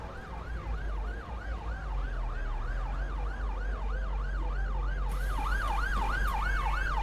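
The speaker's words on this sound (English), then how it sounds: "that poxy police car is behind me" A police car siren in the OMSI 2 London bus simulator game wails steadily in a rapid rising-and-falling yelp, loud and close, over a low engine rumble.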